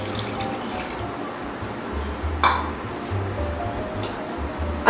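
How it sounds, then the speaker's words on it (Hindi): A glass of water poured into yogurt-coated mutton in a pressure cooker for Hyderabadi biryani, a steady splashing flow with a brief clink partway through, heard close and alone. "और अब इसके अंदर चला जाएगा 1 गिलास पानी।"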